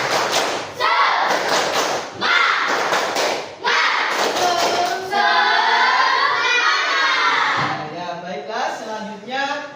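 Students in a classroom do the 'tepuk semangat' spirit clap, repeated rounds of rhythmic claps and thuds broken by a teacher's voice and group chanting, loud and nearby.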